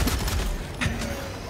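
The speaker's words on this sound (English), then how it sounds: "I'm just shooting into the smoke" Heavy gunfire in the game Helldivers 2 fires into smoke as a rapid, loud burst of shots, close and dense over a short span.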